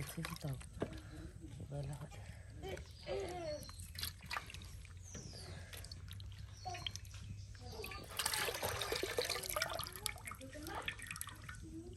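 Water splashes and drips as taki fish are washed and cleaned for village-style bharta, uneven splatters and trickles running throughout, close by, growing louder near the end, with a voice talking over it.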